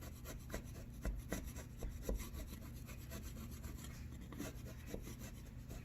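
Rough plaster being carved by hand to cut a small angled line, giving steady scraping and rasping strokes with a repeated rhythm, close and moderately loud.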